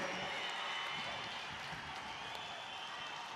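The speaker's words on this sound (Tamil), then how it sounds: "கைகளை தட்டி ஆரவாரம் செய்து நிறைவேற்றி தருமாறு உங்களை மெத்த பணிவோடு கேட்டுக்கொள்கிறேன்" A crowd at a women's conference against alcohol and drugs claps and cheers to pass resolutions, a steady, dense wash of applause that is fairly faint and distant and holds evenly throughout.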